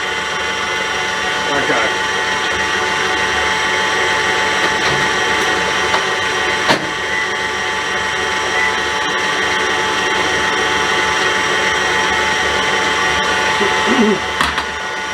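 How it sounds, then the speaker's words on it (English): An electric mixer beats a cheesecake cheese mix in a steady, loud whirring drone that runs throughout, with a brief word spoken near the end. "The cheese mix is pretty much there. I can't see any lumps, so I'm going to turn the mixer off now."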